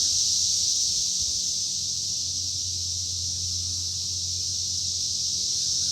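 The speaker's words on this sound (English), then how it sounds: "Cicadas are loud." Loud cicadas drone in a continuous, high, steady buzz outdoors on an evening, with a faint low hum underneath and no voices.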